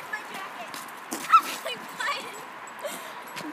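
A puppy whimpers and lets out short yips in a few brief bursts, fairly close, with people talking over it.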